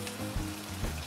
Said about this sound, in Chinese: 所以我妈把它煎成有点金黄焦焦的部分